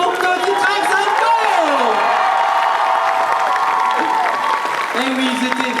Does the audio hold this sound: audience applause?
yes